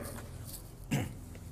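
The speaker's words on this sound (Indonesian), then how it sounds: "Maafkan ya, lagi batuk." A single short cough from a man indoors, quiet and brief, standing out against a faint background hum.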